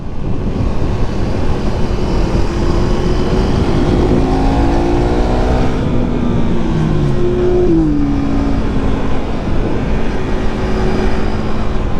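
A KTM 390 Duke motorcycle engine climbs through rising pitch sweeps as it accelerates uphill, loud and close, with heavy wind rush throughout.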